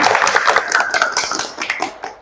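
Students in a vocational high school group guidance class clap their hands together, a close, busy patter of many overlapping claps that tails off after about two seconds.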